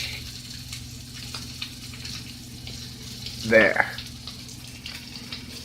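A bone-in ribeye steak sizzles gently in a pan over medium heat with a soft, steady hiss. A slightly louder burst comes briefly partway through, and a voice talks over it.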